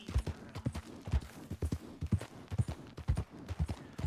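A horse gallops in Red Dead Redemption II, its hooves pounding out a quick, steady, repeating rhythm of heavy thuds, close and loud throughout with no talk.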